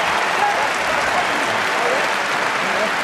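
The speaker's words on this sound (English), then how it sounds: "big applause for his players" A large stadium crowd at a Rugby World Cup 2007 pool match between Scotland and Portugal applauds in a loud, continuous, dense wash, steady from start to finish.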